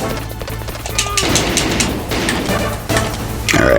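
Gunfire in the PS1 game Metal Gear Solid, with several sharp shots and bursts crackling in quick succession, loud and close, over background game noise.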